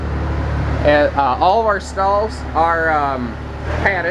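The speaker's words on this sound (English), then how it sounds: "Sorry for the tractor noise there." A tractor engine drones steadily nearby as a low constant hum beneath someone talking up close inside a Lakota Charger 8313S living quarters gooseneck horse trailer.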